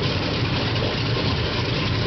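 A Pratt & Whitney R-4360 radial aircraft piston engine, of the kind fitted to the B-36 Peacemaker bomber, runs at a steady, loud, dense roar with a deep low rumble throughout, close by and with no voices.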